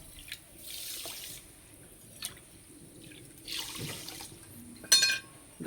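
Water poured from a bowl into a kadai on the stove for jalebi sugar syrup, heard as a few separate splashing pours with brief gaps and a sharper splash near the end, close and fairly quiet.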